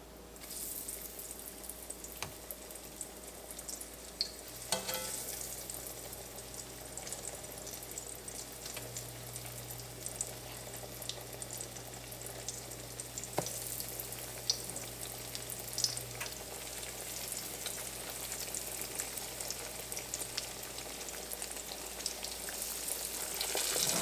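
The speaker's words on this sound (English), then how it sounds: "I'm gonna get my oil in the pan and start frying" Soft, continuous crackling and sizzling of breaded food frying in a pan of oil, fairly quiet and steady, with a faint hum and occasional clicks.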